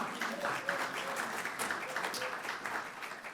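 Steady applause from an audience at a college address, dense and even clapping that holds for a few seconds and fades slightly at the end.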